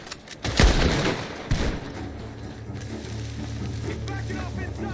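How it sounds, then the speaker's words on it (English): Gunfire rings out from a barn in the video game Red Dead Redemption 2: two sharp, loud shots come early, then a rumbling game backdrop continues. "The gunshots are coming from that barn."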